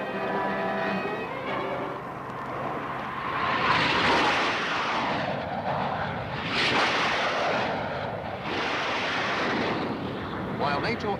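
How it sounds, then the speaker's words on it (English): Military aircraft flying overhead, a loud broad roar that swells and fades in repeated surges over a constant rushing background, with a brief tonal sound at the start. "Aircraft are on their way to attack deep in the enemy homeland and to cripple his lines of supply."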